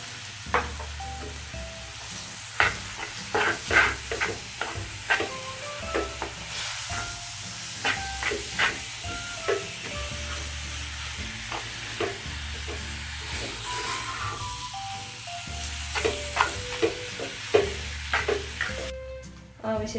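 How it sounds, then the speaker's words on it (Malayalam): Squid, 600 grams and cleaned, is tipped into a pan of cooked-down masala with coconut oil, sizzling and frying steadily while a spoon scrapes and stirs in irregular clacks over a constant low hum. "കഴുകി വൃത്തിയാക്കി വെച്ചിരിക്കുന്ന 600 ഗ്രാം കൂന്തൽ ഇതിലേക്ക് ആഡ് ചെയ്യാം"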